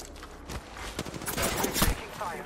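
Rapid bursts of automatic gunfire crackle through a firefight in the battle-royale shooter Apex Legends, dense and continuous over the whole stretch, with a voice speaking over the shots.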